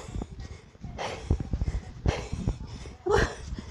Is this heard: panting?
yes